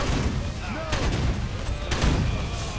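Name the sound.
gunfire at a shooting gallery in the video game Rise of the Triad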